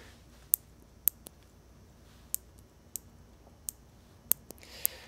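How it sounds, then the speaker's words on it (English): Small PC-mounted switches on a Heathkit GC-1006 clock kit are pressed, giving about ten crisp, close, separate clicks at uneven intervals over a quiet background. "usually these sorts of little PC switches aren't too clicky, but it's actually clickety"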